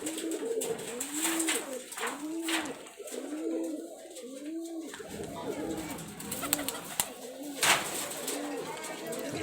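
Rajshahi local high-flyer pigeons cooing in repeated rising and falling calls, fairly close, with someone speaking now and then between the coos.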